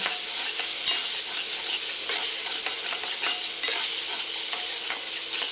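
Fried rice with two eggs stir-fried in a pan, with a continuous bright sizzle and a rhythm of utensil scrapes and taps, close and alone.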